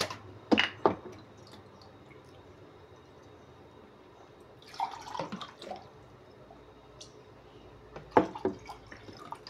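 Water poured and sipped during a Portuguese audiobook reading of a spiritist text, with a quiet splashy burst near the start, another around the middle and a last one near the end, all fairly close with no talking.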